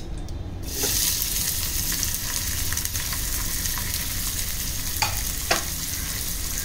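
Onion fries in a little oil, starting after a short quiet moment with a sudden steady hiss that stays loud and close, broken by a couple of faint stirring clicks.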